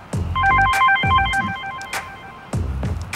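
A telephone rings loudly and close by in repeated trilling bursts, with no talk over the ringing.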